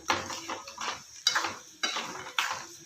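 Garlic puffed rice churumuri being stirred in a pan over low heat, North Karnataka style, with repeated scraping and clattering strokes of a spoon against the pan in an uneven rhythm, close and moderately loud, no talking.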